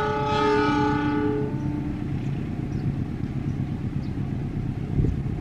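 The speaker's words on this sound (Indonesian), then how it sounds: "pas-pasan dengan kereta barang." A freight train passes an express passenger train on a double-track railway line, its horn blaring loudly in layered tones for the first second and a half before fading into a steady, heavy rumble of wagons rolling close by.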